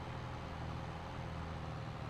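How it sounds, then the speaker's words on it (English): Steady engine drone of a sprayer vehicle in Farming Simulator 22, a constant low hum with a broad noisy wash and no variation across the short stretch. "I'm going to get the new sprayer going"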